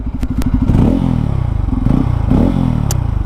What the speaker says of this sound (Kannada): ಎಕ್ಸಾಸ್ಟ್ ನೋಟ್ ಒಂದು ತೋರಿಸ್ ನೋಡಿ